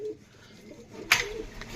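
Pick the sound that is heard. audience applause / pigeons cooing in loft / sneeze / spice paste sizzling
pigeons cooing in loft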